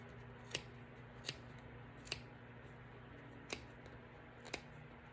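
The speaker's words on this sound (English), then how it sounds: "And you're just going to cut the yarn." Scissors snipping through yarn wound on a pom-pom maker, five faint, sharp cuts spaced irregularly over a quiet background hum.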